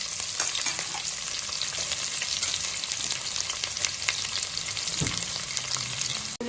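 Sliced onions for aloo dum biryani fry in hot oil in a pan, a loud, steady, close sizzle broken by occasional stirring clatters and one sharp knock near the end.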